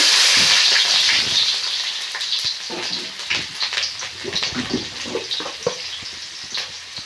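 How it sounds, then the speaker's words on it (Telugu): Mustard seeds and cumin hit hot oil in a pan for an okra masala curry, starting with a loud sizzling hiss that settles into close, scattered crackles and pops. "ఇప్పుడు నూనె కాగింది ఇప్పుడు ఆవాలు వేసుకున్నాం అలాగే కొంచెం జీలకర్ర"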